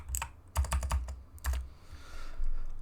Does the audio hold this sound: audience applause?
no